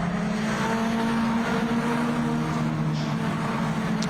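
Race cars circuit Zandvoort in a close-running train, a steady droning engine roar with a sustained low hum that stays constant throughout.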